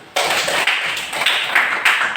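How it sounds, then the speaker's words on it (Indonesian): A classroom group claps together after student groups give their answers, a sudden burst of close, bright hand claps that starts abruptly and keeps going at a steady, fairly loud level. "Oke, tepuk tangan dulu"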